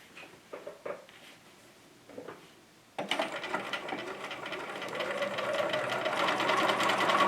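A sewing machine stitches fabric, its foot edge guiding the seam. Soft handling taps come first, then the motor starts loud and runs in a steady, rapid whirring chatter for the remaining seconds.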